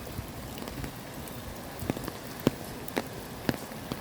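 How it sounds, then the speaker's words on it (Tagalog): Steady rain patters on a surface outdoors, a soft continuous wash broken by a few sharper drops landing close by, with no voices. "Raining. Raining, raining, raining."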